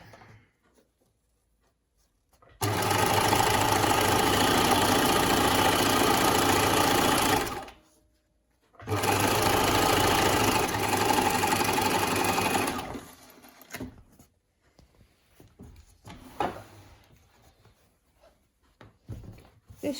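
A sewing machine stitches the V-neck edge of a scrub top in two long steady runs with a brief pause between, loud and close, then quieter fabric handling afterward.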